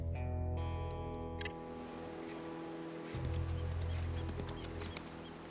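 Horses' hooves clopping while riding in the video game Hard West 2, a soft steady rhythm of hoofbeats at moderate distance over a low ambient background, with no talk.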